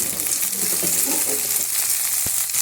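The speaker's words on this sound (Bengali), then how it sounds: "কাঁচা লঙ্কা বাটা, সর্ষে বাটা, নুন হলুদ দিয়ে নাড়াচাড়া করছি।" Fried pabda fish with mustard paste, green chilli paste, salt and turmeric sizzles loudly in a pan as it is stirred. The steady frying hiss runs throughout, with soft stirring scrapes and a brief knock.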